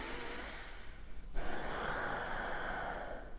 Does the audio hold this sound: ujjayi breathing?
yes